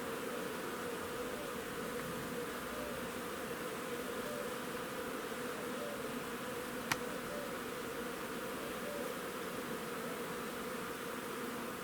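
Honeybees in a hive with a narrow frame set in the middle make a steady, unbroken buzzing hum that stays even throughout, with one faint click partway through.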